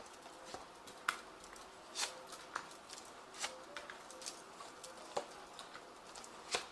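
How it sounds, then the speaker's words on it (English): Soft, irregular clicks and light papery taps, faint and close, of a tarot deck being shuffled and riffled in a quiet room. "I have shuffled this deck"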